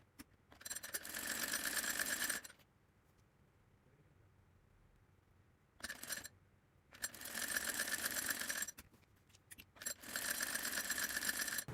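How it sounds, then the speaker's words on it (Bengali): A sewing machine stitching a fabric shoulder seam on a kids' fotua, running in three loud whirring bursts separated by quiet pauses, close up with no speech. "কাঁধ সম্ভবত আমি ডাউন করে কাটিনি, তাই আমি একটু এখানে ডাবিয়ে সেলাই দিয়ে নিচ্ছি।"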